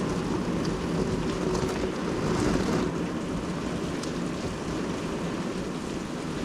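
Rain falls outside a summer kitchen window, a steady, even hiss of drops that continues without pause, with no voices.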